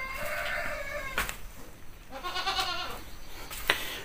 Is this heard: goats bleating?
yes